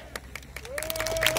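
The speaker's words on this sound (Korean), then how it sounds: "박규영 부부장님께 다시 한번 큰 박수 부탁드리겠습니다." A crowd at a union rally applauds, scattered claps building into denser, louder clapping, with a sustained tone from a speaker system or voice running beneath it.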